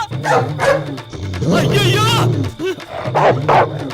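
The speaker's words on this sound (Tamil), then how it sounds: "நாயிடா." A dog barks in a Tamil comedy film scene, a few close yips and barks woven between excited voices and a shout.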